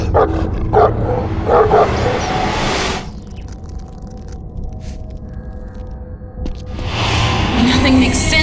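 Hounds bark in the horror video game The Suffering: Ties That Bind, with repeated yips and barks in bursts at the start and again near the end, set against a droning game background.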